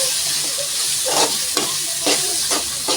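Gongura chicken curry with masala sizzling and frying in a pan, with repeated scraping stir strokes at a steady rhythm over a continuous close hiss.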